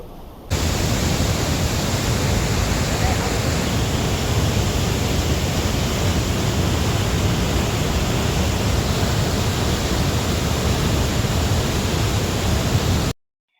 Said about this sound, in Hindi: उससे नीचे जाते ही आपको यहाँ पर 500 लॉन्ग वाटरफॉल दिखाई देगा